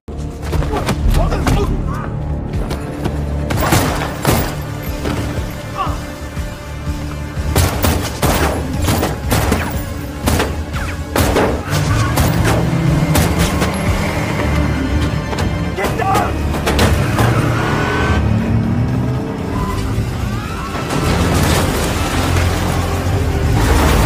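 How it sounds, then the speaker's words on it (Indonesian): Film fight scene with dense gunfire: repeated sharp shots and bursts crackle over a loud, continuous action soundtrack with booming impacts, while voices talk intermittently throughout. "terjadilah peperangan hingga si Robert pun tertembak."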